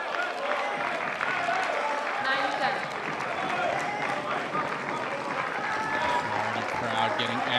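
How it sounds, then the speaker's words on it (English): Spectators at a Florida vs. Carolina table tennis league match cheer and clap steadily throughout, a dense continuous crowd roar with voices mixed in. "Crowd getting amped up here."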